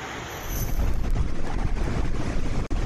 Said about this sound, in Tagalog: mabagsik na hangin ang naranasan ng mga taga-Taiwan